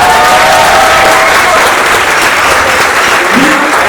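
Audience applause in a hall at a founder's address, steady dense clapping filling the whole stretch at high loudness, with a faint tonal sound briefly audible underneath.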